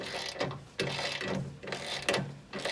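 A hand ratchet loosening bolts at the front of a vehicle during an evap canister relocation kit install, heard as three quick bursts of rapid metallic clicking with short pauses between, close and alone.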